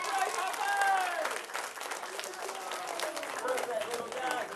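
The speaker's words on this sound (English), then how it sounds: "Big round of applause for my great hoppers" Audience applause for young performers at a live science-show event, a burst of crowd clapping and cheering that holds steady, with voices mixed in.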